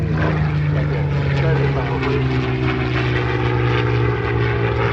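A Spitfire fighter flies past at the Hunter Valley airshow, a loud, steady propeller engine drone with a deep throbbing hum that holds throughout, with crowd and outdoor noise around it.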